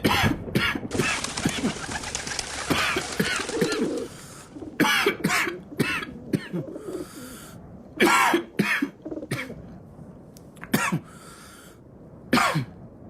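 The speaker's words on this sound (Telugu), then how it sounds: "ఏందా దగ్గు? ఏమైంది?" Harsh coughing fits close by, several sharp bursts spread out with short quiet gaps between them.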